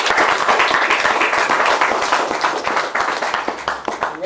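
An audience claps in sustained applause for a professor at a book presentation gathering, a dense, loud, steady patter of many hands throughout, easing slightly toward the end.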